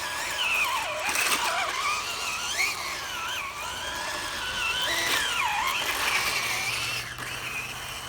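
A RUKO Q111 1:12 scale RC military assault tank driving over rough ground, its small electric motor whining and rising and falling in pitch with the throttle, loud and close and steady throughout.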